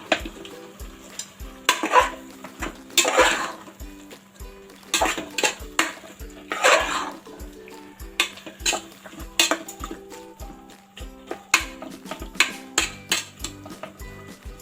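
A spoon stirs and mixes biryani in a pressure cooker pot, giving repeated close metallic scrapes and clinks over a soft sizzle, with steady faint background music.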